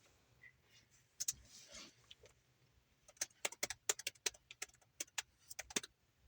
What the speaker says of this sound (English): You just got some keyboard ASMR right there